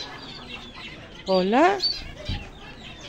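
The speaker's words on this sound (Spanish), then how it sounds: "Esto creo que es algún tipo de gallina." A hen-like fowl at an animal farm gives a loud, rising burst of clucks close to the microphone, with a short call after it, while people talk quietly nearby.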